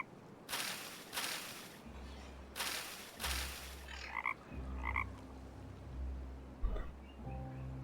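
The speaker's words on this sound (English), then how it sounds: "Croak." A frog in the game Timberborn gives about four deep, raspy croaks in two quick pairs, fairly near and clear over quiet ambience, before softer ambient game sounds and music take over.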